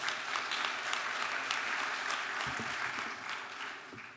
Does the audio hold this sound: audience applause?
yes